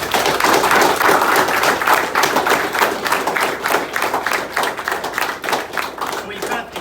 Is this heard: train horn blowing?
no